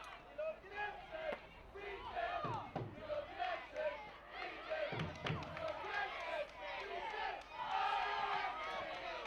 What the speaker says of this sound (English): Everton fans still cheering their team on.